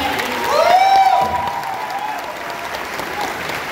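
A crowd at an award function applauds steadily for a few seconds, the clapping dense and moderately loud, with a brief tonal sweep or voice-like sound rising over it early on.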